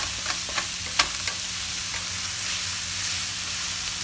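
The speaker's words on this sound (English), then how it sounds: "Keep stirring around." Meat frying for spaghetti sauce with onions and mushrooms over medium heat, stirred in a pan: a steady sizzle under a few scattered utensil scrapes and taps early on, close and without speech.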